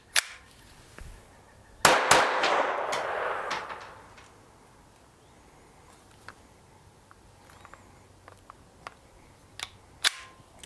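A KelTec P17 .22 semi-auto blowback pistol firing a magazine: a handful of sharp, cracking shots in quick succession, followed by quieter clicks and handling noises.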